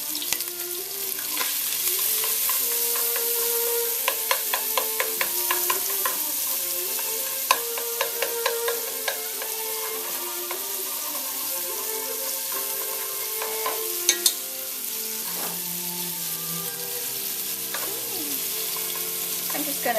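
Garlic and ginger sizzle steadily in a pan, a dense frying hiss under repeated scraping and tapping of a spatula, close and continuous throughout.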